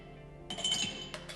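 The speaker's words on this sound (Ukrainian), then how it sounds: "В келих насипаю лід." Ice poured into a wine glass while making iced coffee, a short burst of bright clinking and rattling cubes that swells then tapers, with a second brief clatter near the end.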